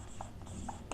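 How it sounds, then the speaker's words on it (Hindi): Chalk or marker writing on a board during a physics lecture on viscosity, a few faint short scratchy strokes over a quiet room hum. "चलो यहां लिखते हैं ना, नेगेटिव साइन"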